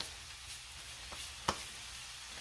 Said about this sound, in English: We got our bacon going.